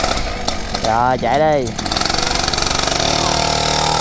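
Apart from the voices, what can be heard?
motorcycle engines starting and idling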